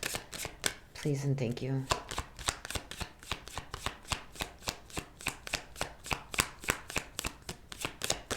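Playing cards are shuffled for a tarot-style reading, a rapid string of crisp riffling snaps repeating evenly at close range, with a voice speaking briefly early on.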